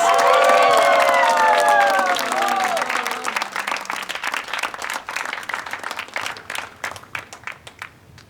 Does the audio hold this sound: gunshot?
no